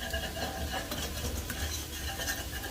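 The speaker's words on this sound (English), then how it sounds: "Okay, so we just want to whisk this around" A whisk stirring a flour roux in a pan before beef broth goes in, a continuous scraping swish with a light sizzle underneath, close and moderately quiet.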